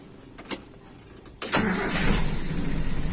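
A carbureted motorcycle with a lean idle mixture sputters faintly, then catches with a sudden burst as the throttle is pressed and settles into a steady, fairly close engine roar.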